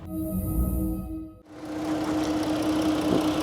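A Jeep Cherokee 3.2 petrol engine idles with a steady low hum and faint mechanical ticking, close by, after a brief higher-pitched tonal noise at the start.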